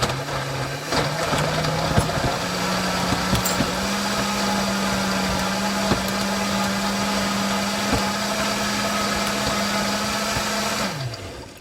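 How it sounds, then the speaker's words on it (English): A blender whirs steadily for about ten seconds, blending a sauce of pear, avocado and lentils, with a constant motor hum and gritty churning before it winds down at the end. "And so now I just have to blend."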